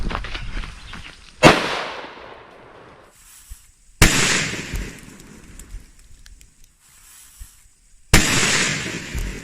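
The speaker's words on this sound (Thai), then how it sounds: "ประทัดลูกบอลแบบ 2 บาท" Three sharp, loud blasts from 2-baht ball firecrackers set against a watermelon, spaced a few seconds apart outdoors, each one a hard crack that trails off into a rustling, crackling tail.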